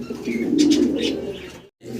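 Grey barless copper lark pigeons coo nearby in a few soft, throaty rolling calls, ending with a brief pause before the cooing resumes.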